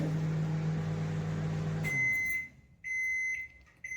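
A microwave oven hums steadily, then stops and gives two short, clear electronic beeps close by, with no talking.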